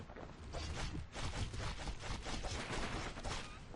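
Rapid pistol fire in the action game Bastion: a quick run of sharp, evenly spaced shots, faint and crackly, repeating steadily with no pauses.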